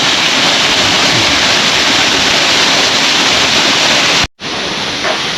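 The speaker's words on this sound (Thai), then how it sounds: "แล้วก็มีน้ำตกนะครับ" A steady, loud roar of a waterfall at Wat Tham Pha Daen temple in Sakon Nakhon, Thailand, fills the clip without a break, cutting out for an instant near the end before resuming.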